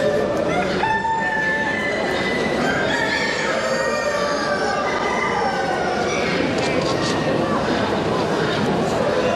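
Small Brahma rooster at a crowded poultry exhibition in Bucharest, crowing and clucking amid a dense, continuous hall din of many birds, with voices chattering throughout.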